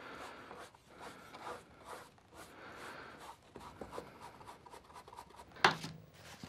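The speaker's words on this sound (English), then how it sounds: "scrub between the pieces of card" A wet brush scrubs in short repeated strokes between pieces of card while painting with clean water, a soft quiet rasping that continues throughout, with one sharper brief scrape near the end.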